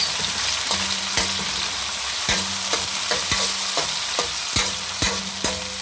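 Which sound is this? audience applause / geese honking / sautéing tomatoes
sautéing tomatoes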